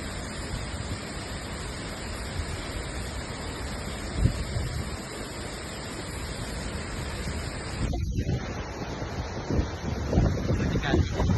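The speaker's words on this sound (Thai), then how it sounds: "เป็นจุดที่เราสามารถเข้าไปใกล้น้ำตกและเบิ่งน้ำตกแบบเต็มตาเด้อทุกคน" Tad Tayuek Suea waterfall in Pak Song, southern Laos, rushing as a dense continuous roar of falling water, mixed with wind buffeting the microphone, with faint voices in the background.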